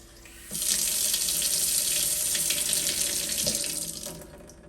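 A Moen High Arc kitchen faucet, with its aerator newly replaced, runs a steady, close stream of water into the sink for about four seconds before it is shut off.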